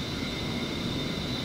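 Steady broadband roar of an A-10C jet's engines in the DCS combat flight simulator game, with a constant whining tone over the rushing drone and no pauses.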